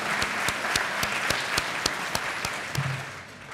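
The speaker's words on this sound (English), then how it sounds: "round of applause, seriously, kid you not." Applause for marathon runners at a business chamber health event, heard as a sparse, steady run of distinct claps at a regular rhythm, fairly close, with a faint murmur of crowd behind them.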